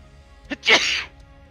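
One close, sharp sneeze, a quick intake followed by a loud burst, bursting out in a quiet room during a Pathfinder tabletop role-playing session.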